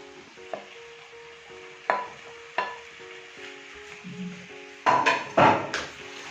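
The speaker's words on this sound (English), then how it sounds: "Now I will be adding the potatoes." Half-kilogram of steamed, mostly cooked potatoes tipped into a pan of spinach, with several sharp clatters and stirring scrapes against the pan and a soft background hiss, loudest in two bursts near the end.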